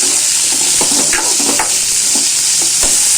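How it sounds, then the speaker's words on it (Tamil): Curry leaves and radish are sautéed in a pan for a mutton radish curry. A loud, close sizzle carries steadily throughout, with quick stirring scrapes and taps scattered over it and no voices. "கருவேப்பில் கொஞ்சம் முள்ளங்கி எல்லாமே இதில் ஆட் பண்ணிக்கலாம் எல்லாமே ஒரு வதக்கு வதக்கிட்டு"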